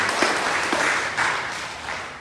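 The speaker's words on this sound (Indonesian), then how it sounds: "Kita harus tepuk tangan dulu buat ibu-ibu yang menyediakan makanan" A church congregation at Sunday worship applauds the women who cooked the meal: a thick, loud wash of many hands clapping together, steady and slowly fading toward the end, with no speech.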